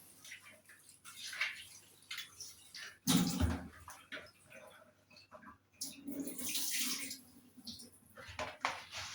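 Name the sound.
washing food under running water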